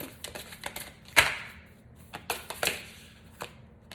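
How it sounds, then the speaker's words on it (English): Tarot cards are shuffled and drawn, giving a few sharp flicks and snaps between soft riffling sounds, close and quiet with no voices. "I'm drawn to pull one more card for you."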